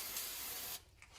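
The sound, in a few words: spraying carb cleaner onto a lawn mower deck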